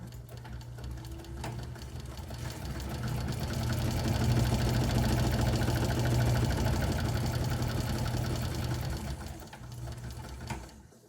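A sewing machine stitches the long side of a rectangular pocket for a messenger bag, its motor humming steadily and swelling louder through the middle before slowing near the end.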